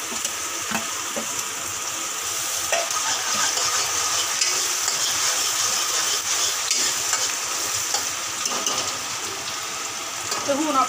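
Tempering spices sizzle and fry in a pan with chilies, a dense steady hiss of hot oil close by, with faint stirring clatter throughout.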